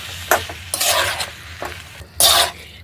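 A spoon stirs curd into a sizzling spice masala in a pan for a vegetarian potato and pea curry, with several loud scraping strokes over a low frying hiss.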